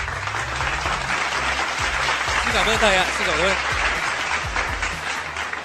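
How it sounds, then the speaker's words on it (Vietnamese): A school flag-raising assembly at Pascal secondary school breaks into loud, sustained applause from students and teachers celebrating a special prize, while a speaker offers thanks over the clapping. "Vâng, xin một tràng vỗ tay thật lớn để chúc mừng."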